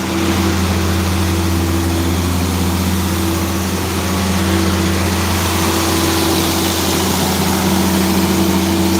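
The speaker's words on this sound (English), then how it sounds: "We got this thing up on high idle right now." An International 9130 tractor engine holds a steady high idle with its AC compressor running, a loud, constant low drone with strong harmonic hum that persists unchanged throughout, with no voices.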